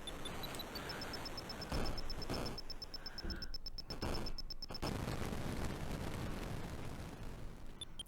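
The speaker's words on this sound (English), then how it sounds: "Such a good explosion sound." A crumbly, noisy explosion from the Atari 8-bit game Computer War: a run of steady electronic beeps, then several coarse bursts of white-noise static that crackle and fade away.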